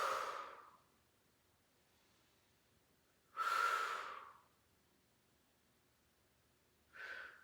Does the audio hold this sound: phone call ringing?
no